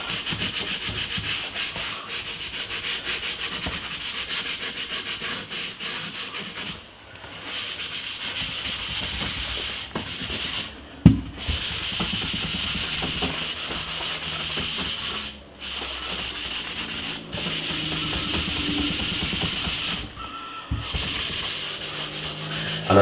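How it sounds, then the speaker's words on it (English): Steady, close scrubbing of a homemade paste of baking soda, lemon juice and toothpaste being rubbed over a kettle, continuous and rasping with brief pauses between strokes, no talking. "the longer you rub it in, is the better for it"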